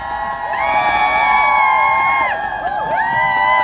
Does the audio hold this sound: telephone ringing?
no